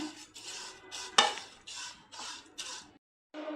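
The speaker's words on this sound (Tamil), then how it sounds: "இப்போ இதை வந்துட்டு ட்ரையாக வறுத்துக்கலாம் அடுப்பை மீடியம் ஃப்ளேமில் வச்சுட்டு இதை வந்து நல்லா வறுத்துக்கணும்" Red poha, flattened rice, is dry roasted in a pan over medium flame, with close, quiet scraping and rustling strokes of a spatula stirring the flakes in an irregular rhythm and a brief silent pause.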